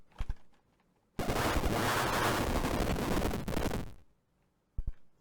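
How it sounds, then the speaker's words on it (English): A magic missile spell fires in a steady roaring burst for about three seconds in the Catacomb Abyss video game, loud and continuous, with a couple of short thumps before and after. "At least I have unlimited ammo for my magic missile."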